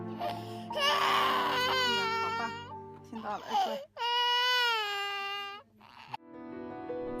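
A two-year-old boy cries right after his cochlear implant is activated, with loud, close wailing sobs broken by short breaths and whimpers, one long rising-and-falling cry in the middle.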